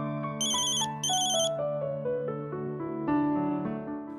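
A phone ringtone plays a clear repeating electronic melody, loud and close, with bright high chiming bursts near the start and no speech over it.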